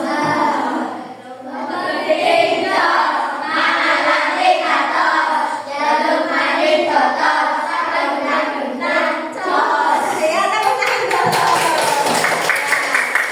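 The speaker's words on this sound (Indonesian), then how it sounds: "Ya, tepuk tangan dulu." Children in a classroom clap their hands along with an adult voice leading a chant, giving rhythmic bursts of claps mixed with speech, fairly close and continuous.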